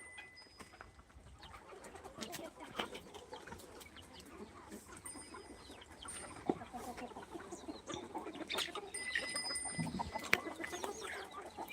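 Free-range country chickens cluck and murmur softly at a distance in a busy farmyard, with scattered short calls and the cooing of other birds mixed in, steady and faint throughout.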